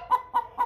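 A 21-week-old Chantecler x Bresse pullet gives three soft, evenly spaced clucks, close and fairly quiet.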